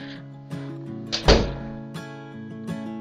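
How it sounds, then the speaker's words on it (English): A door bumps shut indoors with one dull thud in the middle, set against a steady background hum, with a few faint knocks before and after it. "Close the door."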